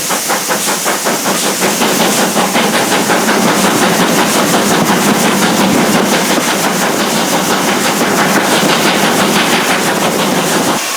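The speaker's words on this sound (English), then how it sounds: "listening to that Great Western Railway Castle class, Pendennis Castle, it just sounds epic" The Great Western Railway Castle class steam locomotive Pendennis Castle works hard on a wet day on the Severn Valley Railway, its exhaust beats coming as a rapid, loud, continuous chuffing over heavy steam hiss close by.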